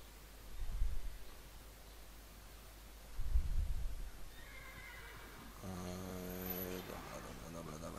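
Horses in the video game Minecraft neigh twice as low bursts a few seconds apart, then a longer, louder whinny follows near the end, with no talking over them.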